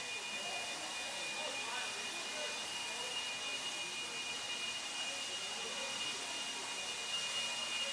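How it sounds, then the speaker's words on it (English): Leaf blowers clear a dirt track area at a desert off-road race event: a steady, continuous broadband whooshing drone holds at even loudness throughout, with a faint high whine running across it. "Marshals, grab those blowers, start blowing off your areas."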